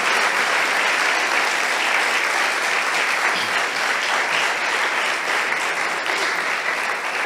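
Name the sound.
church congregation applauding each other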